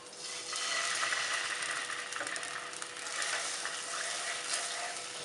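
Milk hits hot ghee in a non-stick pan and sizzles loudly in a dense, continuous hiss that stays steady and close throughout.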